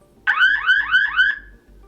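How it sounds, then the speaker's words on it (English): A SimCam 1S Pro AI home security camera sounds its alarm siren, a loud, piercing warbling tone that repeats four times in quick succession and then stops. "The first one, looks like we have an alarm."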